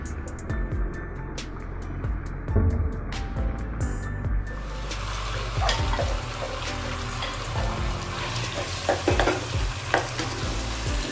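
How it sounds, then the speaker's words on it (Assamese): Marinated chicken frying in a pan, with a steady sizzle and repeated scraping stir strokes, some louder clatters, continuing close and fairly loud throughout. "এতিয়া মই মেৰিনেট কৰি থোৱা চিকেনখিনি দি দিছোঁ।"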